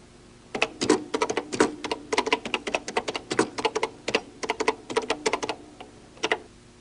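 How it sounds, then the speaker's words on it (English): Typing on an early-1980s computer keyboard, a loud close run of crisp keystroke clacks in quick irregular bursts with short pauses between them. "Type it in and see what happens."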